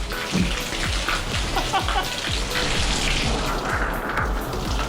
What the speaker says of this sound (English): Tropical storm.